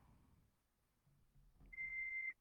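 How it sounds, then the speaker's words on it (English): A single steady electronic beep, like a reversing warning, rings out clearly for about half a second after a low, quiet rumble, then stops abruptly. "Because I hear a beeping now."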